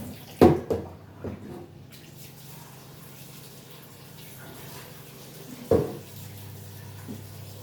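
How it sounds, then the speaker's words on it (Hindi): Water runs from an open tap in a home as a steady low rush. Two sharp clatters break through it, one near the start and one later, like things being handled at the sink. "पानी है ना, खोल के नहीं रखना चाहिए"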